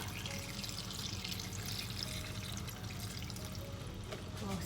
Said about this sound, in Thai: เราก็จะใส่น้ำลงไปเนาะ